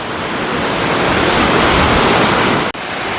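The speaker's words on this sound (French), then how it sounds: "on passe à côté de belles cascades" Waterfalls rushing beside a mountain hiking trail in the Pyrenees near Port de Bielsa, a loud continuous broadband roar of falling water that stays steady throughout, briefly cut near the end.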